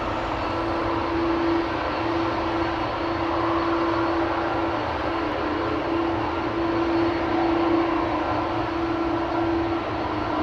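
A KLM Airbus A330-300 airliner, lined up for departure at Amsterdam Schiphol to Oranjestad, Aruba, gives off a steady, continuous engine rumble with a faint sustained whine, unbroken from start to finish.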